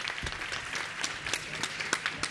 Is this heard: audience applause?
yes